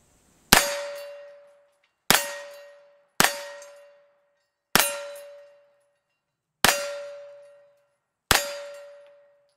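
Six sharp 9mm pistol shots striking a Halloween pumpkin at an outdoor range in Murphy, North Carolina, each a crisp crack with a ringing metallic clang that decays slowly, spaced irregularly about a second or more apart.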